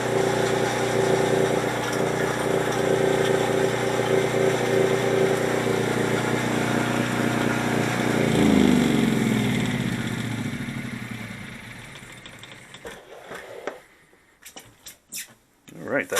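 A boat's generator engine running during a winterization flush with antifreeze: a steady, loud droning motor that winds down and stops partway through, followed by faint clattering handling noises.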